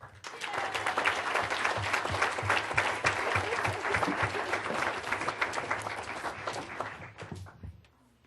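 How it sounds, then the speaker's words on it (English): Audience at a school board of education meeting in Naperville claps steadily for about eight seconds, a dense, even round of applause that thins and fades out at the end. "And finally, a nice round of applause for Sanjay Subramanian."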